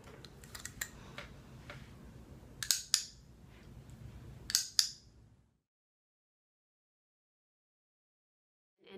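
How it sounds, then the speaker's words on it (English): A handheld dog training clicker snaps out two quick double clicks, crisp and close against a faint background murmur, before the sound drops to near silence. "then I'll show you using a clicker"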